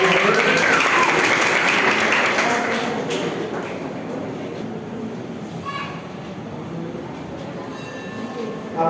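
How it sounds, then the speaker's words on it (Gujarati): Audience applause at a school Independence Day program, a dense burst of clapping that is loud at first and then fades to a lower, thinner patter. "આપની જોરદાર તાળીઓ સાથે"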